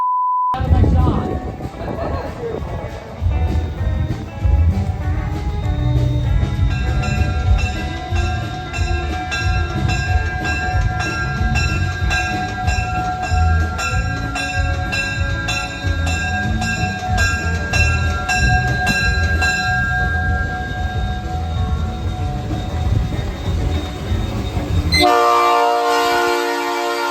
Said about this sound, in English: I asked the crew if they would like to blow the air horn